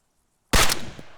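Single burst of rifle fire in ArmA 3, shot while leaning out of cover on a bipod: a sharp, loud report after silence, then a decaying tail with a smaller second crack near the end.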